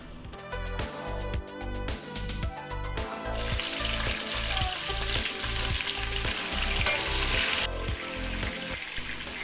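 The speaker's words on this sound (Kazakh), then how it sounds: "Тауықтың сыртын тазалап, турап, сол жаңағы майға қызарғанша қуырып аламыз." Chicken pieces fry in hot oil, a dense steady sizzle that swells after a few seconds and carries on strongly, with rhythmic music playing underneath throughout.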